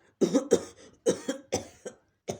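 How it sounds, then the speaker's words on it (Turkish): A series of harsh coughs, about five or six bursts in quick succession, close and fairly loud with short pauses between them. "niye öksürüyorsun?"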